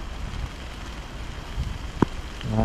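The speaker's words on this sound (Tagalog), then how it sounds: "Nabutan pa tayo ng ulan dito" Heavy outdoor rain pours steadily as a broad, continuous hiss close to the microphone, with a few sharper drip impacts near the end.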